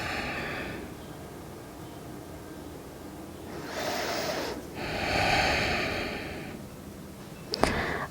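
Slow, close breaths during a seated yoga twist, long soft hissing inhales and exhales in an unhurried rhythm, ending in a brief sharp sniff, with no talking.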